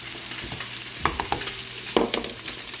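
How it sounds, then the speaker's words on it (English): Potatoes and carrots frying in a pan as they are stirred, a continuous sizzle broken by several distinct scraping knocks of the utensil against the pan. "Give them a good stir."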